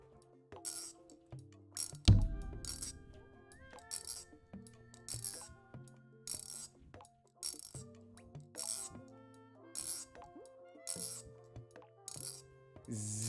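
Kuno fidget toy, a machined metal gadget with medium lube, clicks and snaps sharply in a rapid irregular series, quiet and close.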